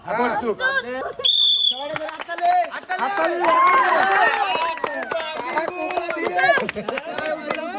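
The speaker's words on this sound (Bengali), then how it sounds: "হাততালি।" Audience applause greets the start of an apple-eating contest among three competitors: a dense, irregular patter of hand claps runs steadily beneath loud, excited voices.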